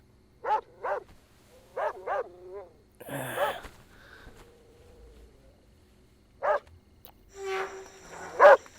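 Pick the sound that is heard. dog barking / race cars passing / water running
dog barking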